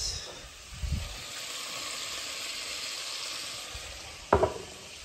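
Meat and onions for adobo fry in hot oil with a steady close sizzle and hiss, broken by a couple of brief clanks of stirring or a utensil against the pan.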